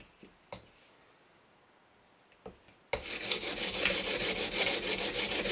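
An Edge Pro sharpener's stone grinds a new bevel into the CTS-20CP steel blade of a Spyderco Paramilitary 2. After a near-silent start with a few faint knocks, a loud, continuous rasping scrape begins and holds steady to the end.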